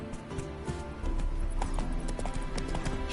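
Roach, the horse in Witcher 3, gallops with rapid, rhythmic hoofbeats that sound close and loud and pick up in intensity partway through.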